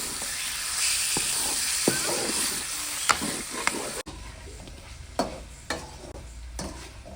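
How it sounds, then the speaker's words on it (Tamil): Fish curry masala for a mackerel curry sautés in hot oil with a constant hissing sizzle, broken by occasional spoon scrapes and taps against the pan. "இந்த எண்ணெயிலேயே நல்லா வதங்கணும் நம்மளுக்கு"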